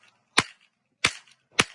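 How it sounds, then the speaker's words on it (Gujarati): Firecrackers bursting at a New Year's Day celebration in a Gujarat village, three sharp cracks about two-thirds of a second apart, each with a short ringing tail, with near silence between them. "છે ને અમુ છે ને ફટાકડો ફોડે છે તો જોઈ શકો છો તમે"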